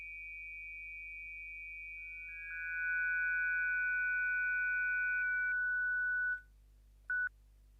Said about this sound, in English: I can easily demonstrate that these are only sine waves by removing stuff like this